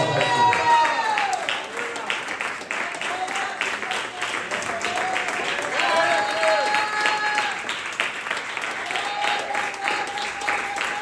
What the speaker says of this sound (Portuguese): Vamos dar uma melhor salva de palmas.